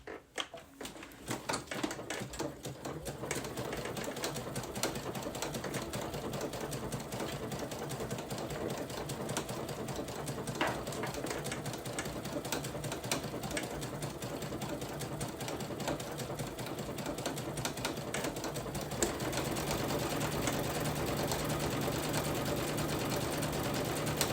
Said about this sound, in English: I just have a feather stitch, and so I'm just going to begin stitching.